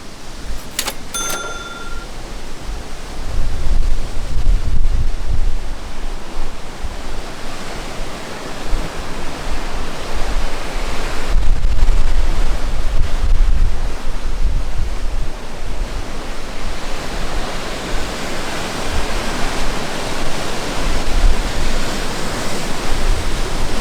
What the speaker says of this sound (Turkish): Gördüğünüz gibi göl bayağı bir dalgalı bugün.